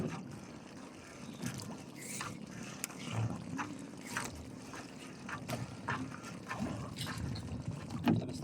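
Strong current of running water, likely a flooded river or stream after rain, rushing steadily with broad continuous wash and scattered splashes close by, no talk.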